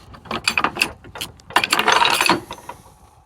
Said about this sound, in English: you pull that out and it releases it, and then you can push the ratcheting part down